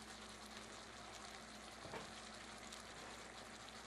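Caramelized sugar sauce sizzling in a hot pan of Cambodian chicken in ginger sauce, a steady, soft, continuous frying hiss with no talk.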